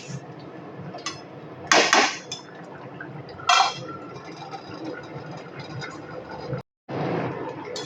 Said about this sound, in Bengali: আমি সেদ্ধ হওয়ার জন্য জল দিয়েছিলাম, দেখুন কত সুন্দরভাবে ফুটছে